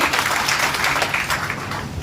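Applause from a crowd at a political speech, steady dense clapping held at an even level throughout, with no talking over it.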